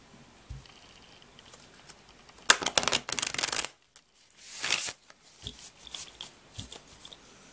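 Tarot cards being shuffled by hand, close and crisp, in two or three quick riffling bursts separated by quieter handling sounds and pauses, with no talking.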